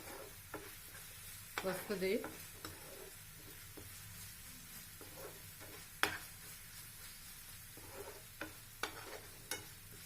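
Crab frying in oil with spices in a pan, a soft steady sizzle broken by scattered clicks and scraping stirs, one loud clack midway and a few sharper taps toward the end.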